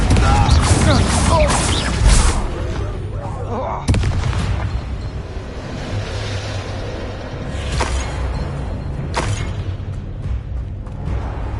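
Confringo fire spell blasts in the Hogwarts Legacy video game, loud booming bursts with whooshes over dense continuous battle noise, sharp hits near 2 and 4 seconds and more around 8 and 9 seconds.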